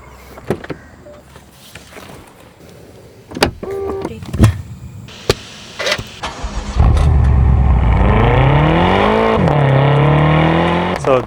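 Clicks and thumps of a 2012 BMW M5 (F10) door and controls, then its engine starts and revs, pitch climbing and settling into a steady loud drone.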